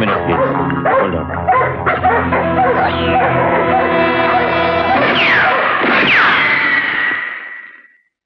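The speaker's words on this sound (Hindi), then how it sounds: "वो मेरे कुछ कुत्ते शोर मचा रहे थे, चुप हो गए।" Several dogs bark and yelp in a film scene, loud and continuous with harsh crashing noises, then the barking fades out near the end.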